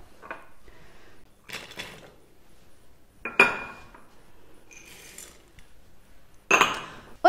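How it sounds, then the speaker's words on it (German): Mixed nuts, including almonds in their skins, clatter into a pan for roasting in a few separate rattling pours and clinks with quiet gaps between them. "Die kommen jetzt alle auf einmal in eine Pfanne."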